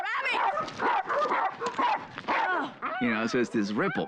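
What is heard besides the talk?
dogs fighting and barking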